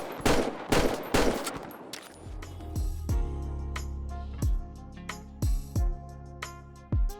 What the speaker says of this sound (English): I'm also using realistic gun sounds, which is probably the most famous gun sounds mod out there